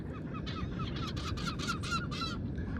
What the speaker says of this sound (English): And now the birds are eating the remains of my fresh fish.